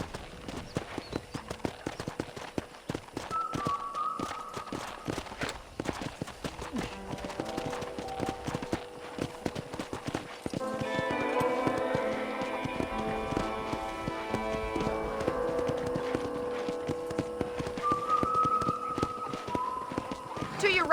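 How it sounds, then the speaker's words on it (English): Steady clip-clop of horse hooves at a walking pace in Red Dead Redemption 2, close by, with game music and a voice talking over it. "let's see if you can still ride a horse."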